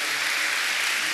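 Crowd applause at a school gathering honoring the director: continuous, moderately loud clapping from many people, steady and unbroken, with no voices standing out.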